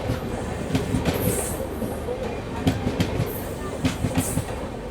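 A passenger train bound for Katihar runs past with rhythmic clickety-clack of wheels over rail joints and a rolling rumble, heard from aboard another train.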